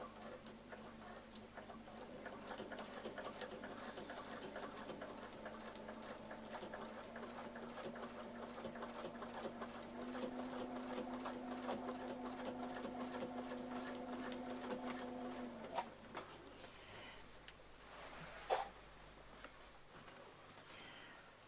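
Sewing machine stitching curved seams on a quilt with a circle template, a steady fast whirring hum with rhythmic needle ticking for about fifteen seconds, then stopping, followed by a few faint handling clicks.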